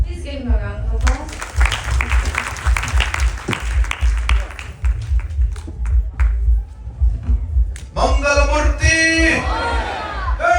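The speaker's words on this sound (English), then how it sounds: "Please give him a round of applause." Applause at a Ganesh Chaturthi religious gathering in the audience, dense clapping running through most of the stretch under loud amplified voices and music, with a clearer voice and tonal sound near the end.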